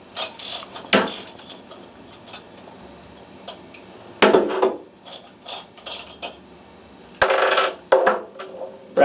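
A 16mm socket loosens a brass stop nut inside a cam pocket assembly, giving several short bursts of metallic ratcheting and clinking separated by quiet pauses, close and fairly loud, with no talking.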